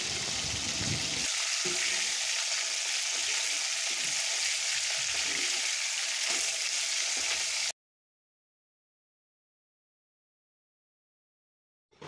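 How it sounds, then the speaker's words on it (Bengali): Fish fries in a pan of hot oil and is stirred and turned to cook both sides, with a bright, continuous sizzle for about eight seconds that then cuts to silence. "এই যে এভাবে নাড়িয়ে চাড়িয়ে দু পিঠ ভেজে নেব।"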